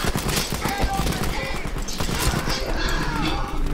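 Gunfire in the video game Battlefield 5, a dense, loud and continuous barrage of shots and battle noise with no pauses.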